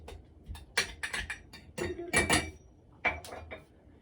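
Repeated hard clinks and knocks, a cup pressing and thumping down into a glass several times in irregular bursts, smashing apple mint leaves for sangria.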